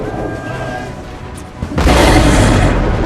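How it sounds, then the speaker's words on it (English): A heavy boom of canister artillery fire in Empire: Total War bursts out after a quieter stretch of battle noise, followed by a sustained loud roar and crackle of the volley. "Canister fire."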